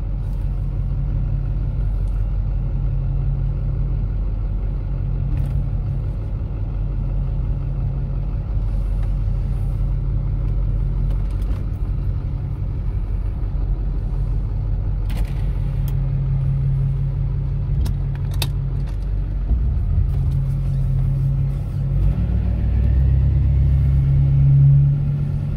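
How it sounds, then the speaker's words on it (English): A Hummer H1 rolls down a neighborhood street, its engine rumbling low and steady from inside the cab, with a swell in road noise near the end. "just driving down my neighborhood street"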